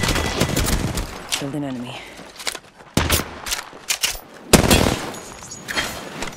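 Enemy gunfire in Apex Legends, rapid loud bursts of shots in several clusters with a game voice line and footsteps in between.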